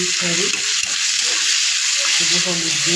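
Tomatoes and spices sizzle and fry in a pan for a hilsa curry with water lilies, with a steady loud hiss and intermittent stirring scrapes throughout.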